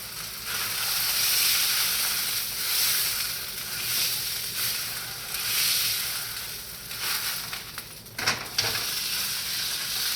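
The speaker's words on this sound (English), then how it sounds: "You have to be careful when cooking on the skillet though" Food sizzling in a skillet on an apartment stove, a continuous bright hiss and crackle that swells and dips, with a few sharp clatters near the end.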